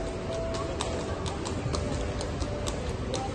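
Horse hooves clip-clop along a street in Florence, Italy, a steady run of sharp, regular knocks at moderate distance over busy background murmur and chatter.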